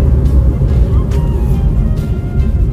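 A Maruti Swift fitted with sports brake pads brakes hard from 100 km/h on the road, giving a loud, steady roar of engine and road noise from inside the cabin with no voices.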